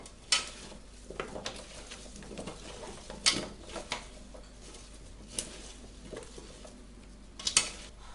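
Potato slices seasoned with salt and pepper are stirred in a pan, giving soft scraping and patter with several sharp utensil clinks against the pan and a faint sizzle underneath, no voices.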